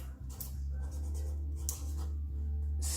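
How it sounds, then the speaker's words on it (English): A pen scratches out a handwritten label for a pink soda gin bottle, with short, faint strokes in quick bursts over a steady low hum. "going to write a little label for that one in our bestest handwriting"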